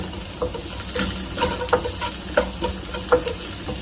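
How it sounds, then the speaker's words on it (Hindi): Crushed cumin and coriander with spices roasting briefly in a pan, a constant sizzle broken by repeated scraping stirs of a spoon against the metal, close and moderately loud. "मसाले को बस थोड़ा सा भूनना है।"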